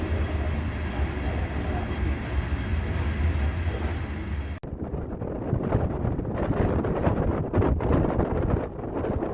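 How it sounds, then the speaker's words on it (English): Strong 40-mile-an-hour wind buffets a microphone outdoors beside a grader near Las Vegas, a loud continuous roar that changes character midway, with no talk. "40-mile-an-hour winds on this grader right now"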